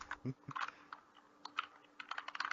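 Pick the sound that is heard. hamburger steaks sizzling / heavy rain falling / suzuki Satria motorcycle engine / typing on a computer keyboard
typing on a computer keyboard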